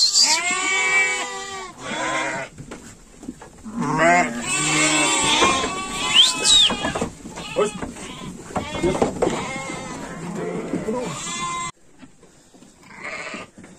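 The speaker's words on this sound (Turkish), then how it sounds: "Evet, kuzulu koyunları ayırdık." Sheep and lambs bleating in a barn, a busy overlapping chorus of loud, close calls from several animals, some high and quavering, pausing briefly before a few more bleats near the end.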